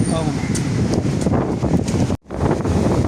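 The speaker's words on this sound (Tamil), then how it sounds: "அதில் பாருங்க காற்று அமோகமாக அடித்து கொண்டிருக்கு" Strong stormy wind buffets the microphone at an open seaside spot, a constant loud roar and rumble with a brief dropout midway.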